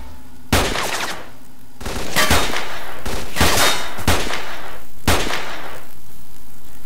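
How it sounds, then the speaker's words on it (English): Bursts of automatic gunfire from military soldiers up in a tower in S.T.A.L.K.E.R.: Clear Sky, five loud rattling volleys spaced about a second apart, close and sharp over a steady background roar, no talking. "Get away from whatever's shooting at us."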